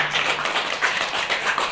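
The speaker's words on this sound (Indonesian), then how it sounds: "tepuk tangan buat Ibu Ambasador" Audience applause for an ambassador: dense, steady clapping from a crowd filling the whole moment, fairly loud and even, with no pauses.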